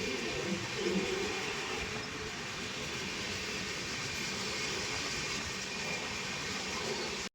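The Humsafar Express rolls along in a continuous broadband rumble with a dense rattle of wheels and carriage, steady and close throughout, with no talk.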